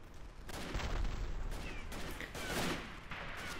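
Several sharp rifle shots ring out in a dense burst in the First World War video game Verdun, on the Vauquois map in rifle deathmatch, over a busy game soundscape, loud and close, with one strong blast midway.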